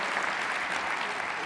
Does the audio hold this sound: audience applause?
yes